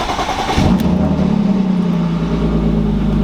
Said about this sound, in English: I think I got a little bit of lifter tick